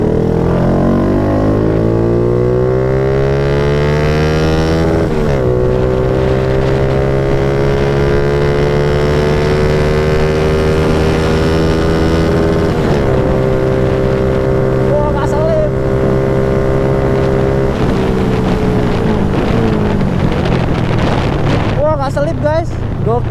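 Honda Supra X 155cc motorcycle on a test ride, its engine revving up through rising, falling and shifting tones as it accelerates through gear changes, loud and close with wind noise.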